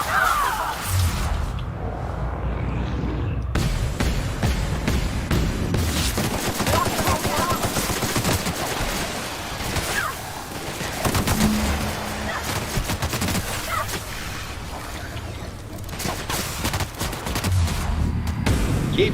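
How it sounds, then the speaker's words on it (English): Gunfire in The Outer Worlds, with repeated bursts of rapid shots and scattered single cracks running nearly throughout, loud and close, with occasional speech over the firing. "Now let's get to shooting before I get all sentimental"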